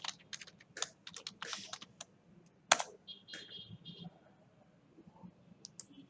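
Password typed on a computer keyboard: a quick irregular run of close, crisp key clicks in bursts with short pauses, one louder tap partway through, against a quiet room.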